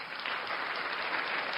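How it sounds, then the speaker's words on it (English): Steady applause from what sounds like a single person clapping, dense and even across the short stretch, fairly close, with no talking. "Here's a bit of clap for you."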